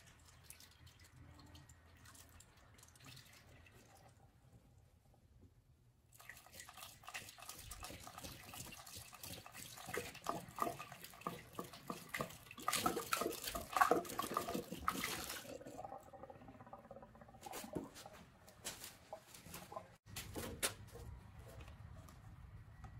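Liquid trickles and gurgles in a steady stream as coolant goes through a funnel into the radiator of a Honda Shadow Aero VT750C motorcycle. The pour gets louder partway through and goes on without talk.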